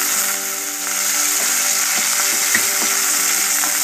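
Ginger and curry leaves frying in a pan, giving a steady loud sizzle with faint crackles and small pops, while a low hum plays underneath.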